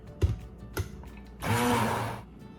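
A short burst of a blender pureeing tomato and other granita ingredients: a loud, whirring roar that lasts under a second, after a couple of dull knocks from the jar being handled.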